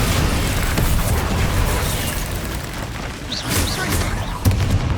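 Bombarda explosion spell in Hogwarts Legacy, a loud booming blast with dense rumbling debris throughout, layered with other game combat effects.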